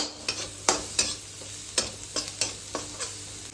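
Egg fried rice cooking in a pan sizzles gently under a series of sharp spatula scrapes and stirs, close up and with no voices.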